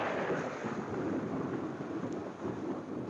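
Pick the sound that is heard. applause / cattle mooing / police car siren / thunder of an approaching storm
thunder of an approaching storm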